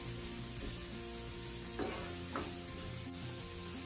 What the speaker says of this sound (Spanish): Un minuto después agregamos el ajo picado y el jengibre rallado. Vamos a freír otro minuto más.